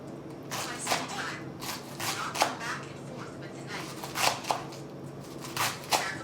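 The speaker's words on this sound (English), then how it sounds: "So I'm gonna go ahead and cut the rest of this cabbage." A knife finely chops cabbage for slaw on a cutting board, with irregular crisp strokes and quick clusters of rapid cuts, close and moderately loud.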